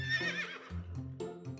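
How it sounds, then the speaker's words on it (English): Giant horses in a cartoon barn neigh and whinny in a close, loud, wavering run of calls, with a faint clopping of hooves underneath and no talk. "Jack went into the barn. Whoa, Nelly, those are some giant horses."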